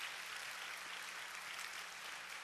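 A church congregation applauding during a Sunday service, steady dense clapping heard faint and distant, evenly sustained throughout.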